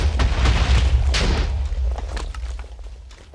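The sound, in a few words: explosions from a wither in a video game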